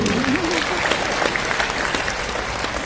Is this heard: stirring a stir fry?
no